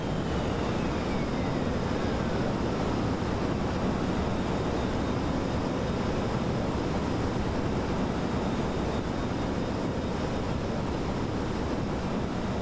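Kerbal Space Program rocket engine thrust, a loud, unbroken, roaring rush of broadband noise that holds steady and even throughout, with no breaks or talking over it.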